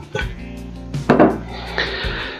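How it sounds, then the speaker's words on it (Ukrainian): A large clear salad bowl is picked up and set down on a kitchen counter, giving a few close hollow knocks and clatters with a brief rattle. "На початку приготування беремо Тазік."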